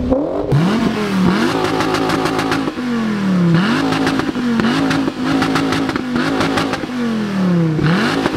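A Dodge Viper's engine revved hard at a Detroit car meet, loud and close, with repeated sharp throttle blips climbing and falling in quick succession, a burbling idle between each rev.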